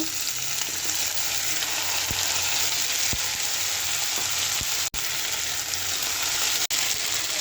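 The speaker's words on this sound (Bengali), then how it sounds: "পেঁয়াজটা ভাজা হয়ে গেছে, এখন আলুটা দিয়ে দেবো।" New potatoes stirred into fried onions in a hot pan give a steady, loud, close sizzle, with soft spoon scrapes and taps breaking through now and then. No one speaks.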